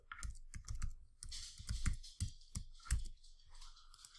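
Someone types a password on a computer keyboard: a quick, irregular run of close, crisp key clicks and taps with short pauses between bursts.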